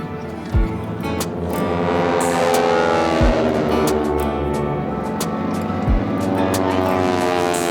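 F-35C Lightning jet taking off at the Oshkosh airshow, a loud, sustained roaring engine with broadband rumble and a few sharp thumps.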